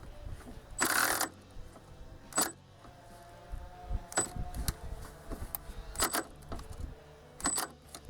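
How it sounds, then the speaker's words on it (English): An electric ratchet loosens a front strut bolt on a 2008–2014 Dodge Avenger, with bursts of whirring and clicking separated by pauses and lighter metallic taps, close and fairly loud. "Then we can get on it with the electric ratchet"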